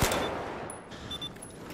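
Gunfire rattles in a Battlefield 4 tournament match: a short, fairly distant burst of rapid shots that trails off within two seconds.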